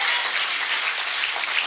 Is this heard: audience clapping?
yes